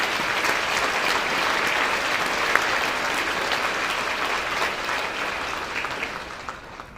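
Audience applause at a banquet fills the room, dense and loud, then gradually thins and fades toward the end.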